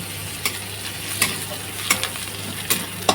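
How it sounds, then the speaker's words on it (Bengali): Garlic frying in hot oil with onions, a continuous close sizzle broken by four or five sharp stirring scrapes of a spatula at roughly even intervals, no voices. "পেঁয়াজটা ভাজা ভাজা হয়ে গেছে তার সঙ্গে আমি এক চামচ রসুন দিয়ে দিচ্ছি আমি হাতে করেই দিচ্ছি রসুনটাও ভালো করে ভেজে নেব"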